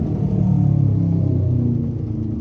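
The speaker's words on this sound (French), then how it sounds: "une moto qui passe" A motorcycle passes by on a road, a steady low engine rumble that stays fairly loud and constant throughout without a clear rise or fall.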